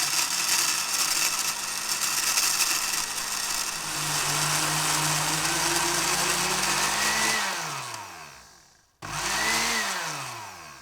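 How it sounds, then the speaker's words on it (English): A blender grinds 150 grams of walnuts with 15 grams of rice flour, a loud steady motor whine that slowly drops in pitch, cuts out briefly, then roars back up to full speed. "150 grams of walnuts and 15 grams of rice flour into a blender"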